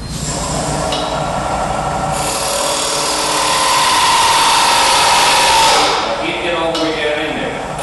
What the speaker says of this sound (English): As you make the parting cut going in with this part of the cutting tool